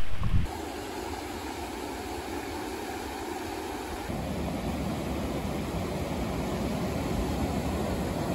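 Wind buffets a microphone at a bivouac spot along Scotland's West Highland Way, a steady low roaring rumble that grows a little stronger partway through, with no speech.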